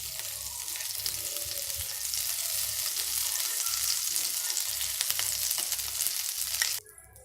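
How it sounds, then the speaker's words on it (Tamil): Butter sizzles on a hot pan or dosa tawa while a paneer sandwich is made. A steady, close frying hiss runs for about seven seconds, then cuts off abruptly, with no talking. "இப்போ கொஞ்சம் நான் பட்டர் போடுறேன்"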